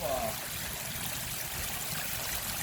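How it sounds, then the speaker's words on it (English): A small stream spills over rocks as a steady, moderately quiet rush of running water that continues without a break, with no speech. "it's just like the waterfall's just pouring out with some rocks in this kind of stuff"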